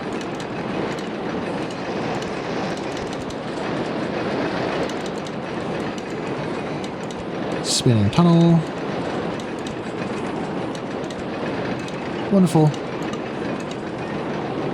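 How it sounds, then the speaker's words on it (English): Roller coaster trains in RollerCoaster Tycoon run with a steady rolling rumble and clatter, punctuated by two brief bursts of squealing, rising tones, while a person talks over the game sounds. "These trains are freaky."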